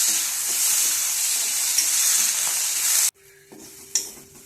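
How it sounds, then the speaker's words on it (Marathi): Pigeon pea (tur) grains roast in a pan with a little oil, hissing and sizzling loudly for about three seconds before the sound cuts to a quiet background with a faint clink. "थोडेसे तेल टाकून हे दाणे आपल्याला हलके डाग येईपर्यंत भाजून घ्यायचे आहेत"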